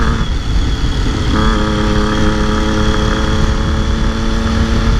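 A 2012 Triumph Street Triple 675 motorcycle pulls in fourth gear, its engine a steady, loud drone that rises in pitch partway through, with harmonic whine layered over constant road and wind roar and no talking.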